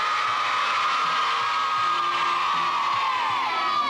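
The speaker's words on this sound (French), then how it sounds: "On va crier très fort. Allez-y!" A large group of young people shouts very loudly together on cue, a sustained, massed yell with whoops that stays at full volume for several seconds, close and dense.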